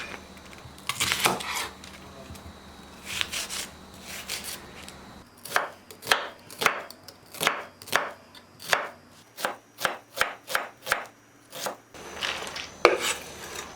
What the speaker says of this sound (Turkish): Burada da 3 tane soğanım var. Bunları doğrayacağım.